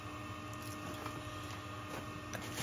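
Valve seat cutting machine working on a classic Mini 850 standard cylinder head, producing a steady low mechanical whir with a faint high whine throughout, close and continuous with no talk.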